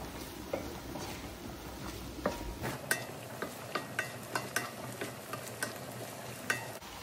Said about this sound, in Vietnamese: Xào hết.